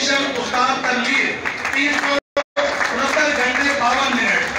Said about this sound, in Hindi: तो चारों के लिए इकट्ठी तालियां हैं